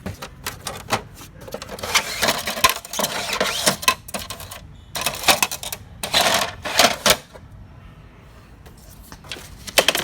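An Epson WorkForce WF-7710 inkjet printer, dusty inside, running with bursts of rapid mechanical clatter and whirring, close and fairly loud, pausing briefly before resuming.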